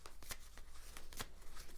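Oracle cards are shuffled in a few quick, soft riffling and slapping bursts, close by and fairly quiet, with no talking.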